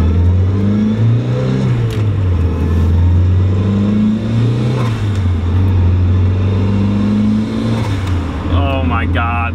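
A tuned, turbocharged Mazda Miata drives along with its engine droning loudly inside the cabin, the pitch rising and falling as it revs through the gears, and someone talks over it.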